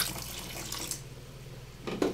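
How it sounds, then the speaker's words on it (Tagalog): Water poured into a bucket of wall paint for mixing, a splashing tap-like gush close by that thins out, then a brief louder burst of pouring at the end. "lalagyan natin ng tubig"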